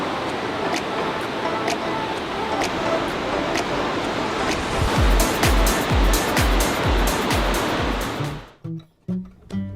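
A mountain river flows in a steady, loud, broadband rush close by, with some sharp knocks near the end as the sound cuts off abruptly.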